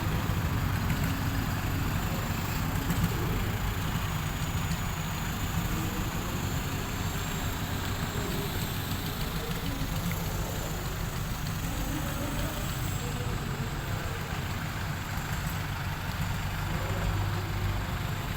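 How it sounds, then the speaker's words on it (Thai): A procession of modified pickup trucks idling at a merit-making parade for a temple in Buriram, Thailand, heard as a steady low engine rumble with constant background noise and no clear individual passes. "ตามมาด้วยขบวนของรถกระบะ กระบะแต่งกระบะซิ่ง ทุกๆสายแล้วครับ"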